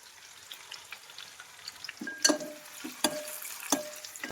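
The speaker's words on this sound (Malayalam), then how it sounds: "അപ്പോൾ അടുത്ത് സബോള ചൂടായ എണ്ണയിലേക്ക് സബോള ചൂടായിട്ടുള്ള ഇടുന്നതിന് പൊരിയണം." Sliced onions fry in hot oil for chicken biryani, a close, lively sizzle with several sharp bursts and scraping stirs of the pan, no voices.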